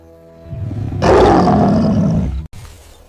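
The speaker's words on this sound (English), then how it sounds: "a roar echoes across the land, the mighty Lion King" An African lion on the savanna lets out a loud, close roar that swells after a quiet lead-in, holds for about a second and a half, then cuts off abruptly, followed by a faint tail.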